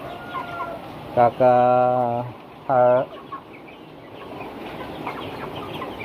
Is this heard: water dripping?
no